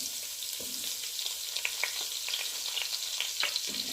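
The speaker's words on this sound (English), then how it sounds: "The margarine, I'll add my green chilies." Green chilies fry in 100 grams of melted margarine for a one-pot chicken biryani, giving a continuous close crackling sizzle with scattered small pops throughout.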